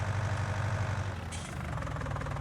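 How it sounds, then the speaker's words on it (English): A tractor engine idles steadily in Farming Simulator 19, a low continuous rumble with a brief hiss partway through and no speech. "Oh, shut the tractor off."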